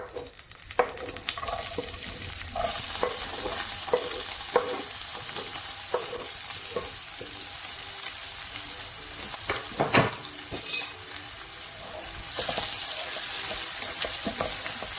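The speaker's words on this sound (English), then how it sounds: "Let's fry for a few minutes until it starts getting golden" Chopped onion, spring onion and garlic fry in oil in a pan, sizzling steadily while a utensil stirs and scrapes through them in frequent clicks and knocks.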